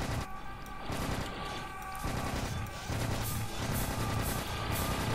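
Gunfire rattles in the Serious Sam: The First Encounter video game, dense bursts of shots and crashing impacts repeating steadily, with no talk over them.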